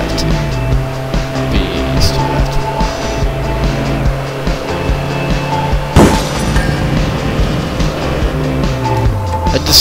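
Car driving in the video game APB Reloaded, a steady engine drone with shifting tones and a sharp impact or clatter midway, with radio music playing over the top.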